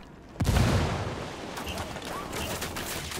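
Gunfire and a grenade blast in the Ghost Recon Wildlands video game: a sudden loud burst of explosions and shots, followed by continued rapid firing and rumbling throughout.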